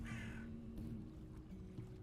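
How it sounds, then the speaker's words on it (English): Crow cawing in Minecraft, a few harsh caws near the start that then give way to quiet ambient game sound. "Did I just hear a crow?"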